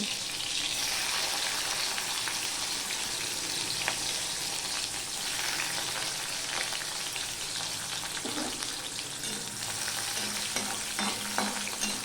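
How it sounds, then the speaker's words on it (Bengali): Steady, loud sizzling of chilli and garlic frying in hot oil, with occasional stirring scrapes, continuous throughout and no talking. "লঙ্কার রসুনটা একটু ভাজা হয়ে গেলে"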